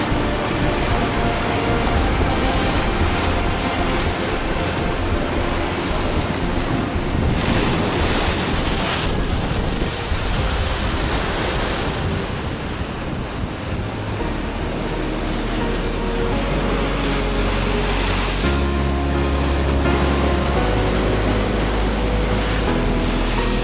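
Ocean waves and surf pound against the Nakalele Blowhole cliffs in a loud, continuous roar, with wind buffeting the microphone throughout and no voices.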